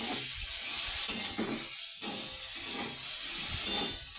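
Food frying in a covered pan, partly steaming and frying at once, gives a steady close hiss with brief dips and small bursts of crackle, with no talking.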